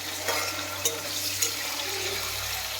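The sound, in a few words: beans frying in a pan, from a Bengali cooking video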